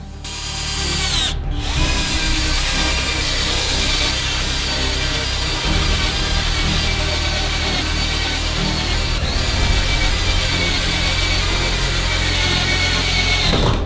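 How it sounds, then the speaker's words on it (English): Power drill driving screws into a plywood sheet on a form, a sustained whirring motor with grinding bursts and a brief pause, loud and close throughout with no talk. "We're going to cover it up with a sheet of plywood and add boards around the perimeter. Then fix this with screws."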